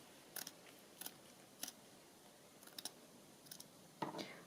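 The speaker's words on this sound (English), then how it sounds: "I'm just going to trim this bit of fabric down the side" Fabric scissors trim along a cloth edge in a string of soft, crisp snips, grouped in twos and threes with short pauses between them and a slightly longer cut near the end, close and quiet in an otherwise still room.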